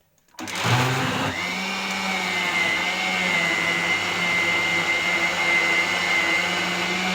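An electric grinder grinds cassava tuber, starting up abruptly and then holding a steady, loud whirring hum with a constant high whine for several seconds, with no talk.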